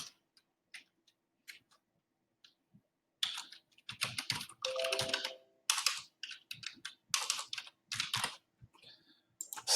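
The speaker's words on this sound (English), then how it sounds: "And then you type in their name." Typing on a computer keyboard to enter a name: scattered single key taps at first, then denser bursts of rapid clicking, close up with no voices.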